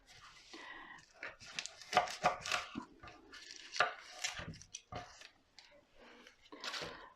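A knife chops garlic rapidly on a chopping board in bursts of close, crisp taps, pausing between runs, with faint movement around it.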